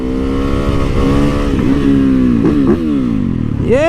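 A torquey bobber motorcycle engine revs loud and close, a continuous throaty roar whose pitch sags and swells between throttle blips, then climbs sharply in a final rev.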